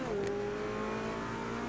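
A GT touring car in Automobilista 2 at Daytona slides after losing traction, a steady engine drone with a falling whine as revs drop through the skid, close and fairly quiet.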